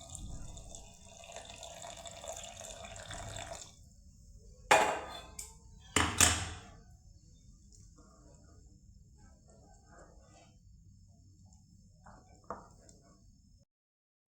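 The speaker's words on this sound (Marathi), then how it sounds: "याच्यामध्ये गरम पाणी टाकूया." Hot water poured into a cashew curry gravy enriched with cream and dried fenugreek makes a couple of splashy bursts amid quieter bubbling and clinks, with someone speaking softly at times.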